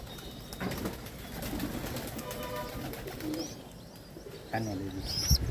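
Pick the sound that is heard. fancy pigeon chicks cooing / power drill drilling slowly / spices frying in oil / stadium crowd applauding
fancy pigeon chicks cooing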